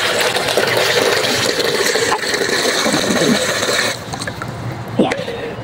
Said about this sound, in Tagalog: Then, lalagyan po natin siya ng tubig.